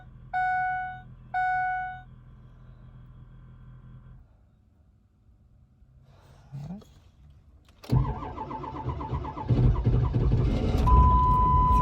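A 7.3 Powerstroke diesel in the low 30s, cold and not yet started that day, chimes twice, goes quiet while the glow plugs wait, then cranks and catches into a loud, clattering idle close by.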